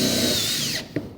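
A power drill drives a self-sealing tech screw down into a metal Z-bar on insulated metal-clad panels, giving a close, loud whirring whine that slows and drops in pitch before cutting off, followed by a short click.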